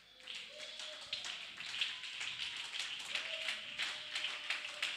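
A church congregation claps rhythmically in acclaim of Jesus Christ, steady sharp claps filling the room at moderate level with faint voices underneath.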